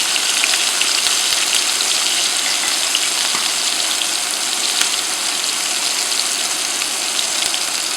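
Food frying in a hot pan for a home Thanksgiving-style dish, a loud, steady sizzle with dense crackling spatter throughout, close and unbroken, with no talking.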